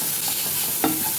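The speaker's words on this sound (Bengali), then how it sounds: "টমেটো গলা পর্যন্ত আমরা এটাকে ভেজে নেব" Tomatoes frying in a pan with turmeric, chili powder and salt, stirred with a brief scraping sweep near the end over a steady low sizzle.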